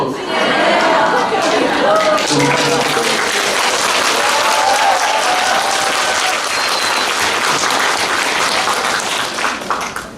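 A crowd at a Buddhist meditation center's year-end thanksgiving gathering claps and cheers. The loud, dense applause is sustained for about ten seconds, with voices and chatter mixed in.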